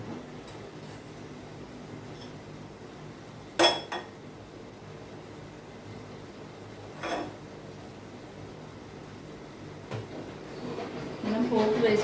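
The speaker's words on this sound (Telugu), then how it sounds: "పోపుకి ఒక గిన్నె అయితే పెడుతున్నాను." A metal pot clanks down onto a kitchen stove with a sharp knock, followed by a few lighter clinks and utensil taps against a quiet room background.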